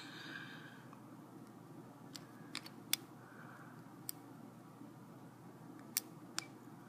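A lock pick makes faint, sparse metallic clicks inside a CCP LB23 hitch lock, isolated ticks spaced a second or so apart over quiet background hiss.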